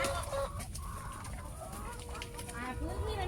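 Many chickens cluck and call continuously on a ginger farm in Chiang Mai, a dense, busy flock noise close by, with occasional higher squawks over the steady low chatter.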